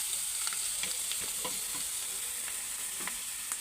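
Egg fry roast sizzling steadily in a hot pan, with mint and coriander stirred in and occasional scraping strokes of a spoon against the pan, close and continuous with no voices.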